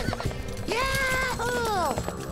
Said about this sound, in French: Et moi, j'aurai même un cheval.